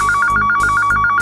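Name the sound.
telephone ringing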